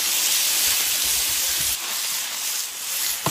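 Pork and pork fat sizzle in a hot iron wok, a loud, steady hissing spray that fills the clip and softens slightly partway through, with no voices.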